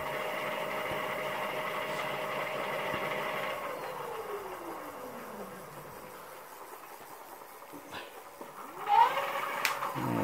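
A 750 watt hub motor on a fat tyre ebike spins its lifted rear wheel, giving a steady electric whine that winds down in pitch, then faint clicks and a brief spin-up near the end.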